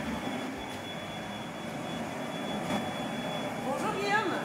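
Glassmaker's workshop with furnaces kept burning around the clock, giving a steady, loud broadband roar with a constant high whine, while faint rising tonal chirps show near the end.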